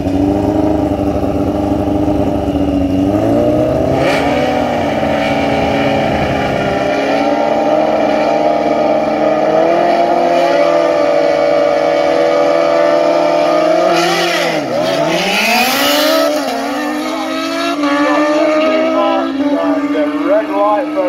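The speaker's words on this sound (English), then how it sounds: "the aspirated 1400 Kawasaki up against the nitrous" Drag race between an aspirated 1400 Kawasaki and a nitrous Suzuki: a loud, droning engine roar holds steady, then its pitch dips sharply and climbs again as the bikes rev hard, continuing for the whole stretch.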